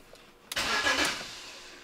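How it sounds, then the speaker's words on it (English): A BMW car engine is started with a key. A brief quiet pause, then a short cranking burst and the engine catching into a steady, fairly loud idle nearby, with no talking. "it does start the car"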